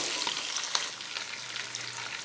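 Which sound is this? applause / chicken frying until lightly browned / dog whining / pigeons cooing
chicken frying until lightly browned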